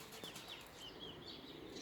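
Soft fluttering of bird wings flapping close by, with faint chirps in a quiet outdoor setting.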